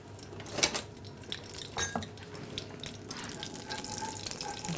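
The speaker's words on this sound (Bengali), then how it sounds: "ঘিটাকে একটু নেড়ে নিই।" A metal spoon clinks and scrapes around a cooking pot while stirring melted ghee, with a few sharp knocks early on and then a lighter, steady sizzling scrape.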